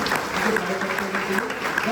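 Audience applause at a Dadar group seminar, steady and continuous across the whole moment with dense crowd clapping and some mixed voices underneath.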